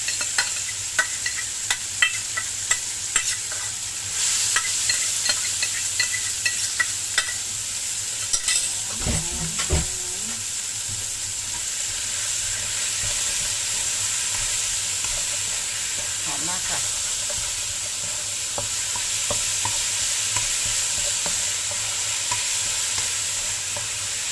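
Larb spice paste stir-fries in leftover oil from frying fish skin, making a continuous hissing sizzle with irregular clicks and scrapes from stirring, plus a brief louder clatter in the middle.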